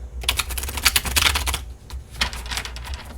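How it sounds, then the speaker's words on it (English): A rapid, dense flurry of crisp tarot card riffles and slaps, close by, in two bursts with a brief pause between, no voices. "one more good shuffle for the air signs"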